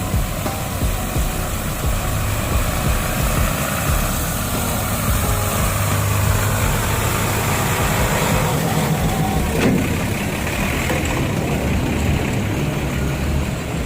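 Engine of a Mitsubishi MG431 grader at a road paving site, a loud continuous diesel drone running steadily without pause.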